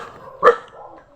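A dog barks twice near a Catholic church in Sitio Santo Niño, two loud sharp barks about three quarters of a second apart with a quieter whine-like tone between them.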